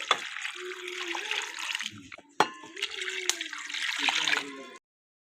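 About 1.5 kg of water is poured into a metal pressure cooker in splashing, gurgling bursts with a brief pause between, stopping abruptly at the end.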